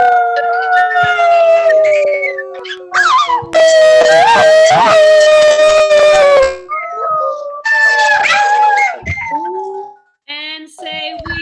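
A school audience at an oratorical event imitates wolves, with many voices giving loud, drawn-out rising and falling howls in several long bursts and a few short yips, separated by brief pauses.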